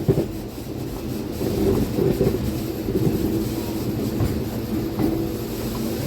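A MEMU commuter train rolling into the last platform of a station, a deep steady rumble of wheels with faint rhythmic clatter over the rails, heard from on board with no voices.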